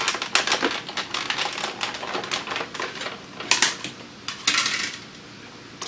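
Electronic die cutting machine feeding an intricate die and cutting it cleanly, heard as a close run of sharp clicking and rattling bursts with a few louder crunches near the end, no talk.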